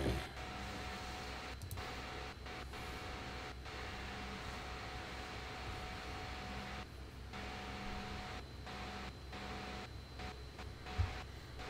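Steady hissing, whirring machine noise of a 3D printer running nearby, faint and continuous, with soft motor tones shifting in pitch and no voices.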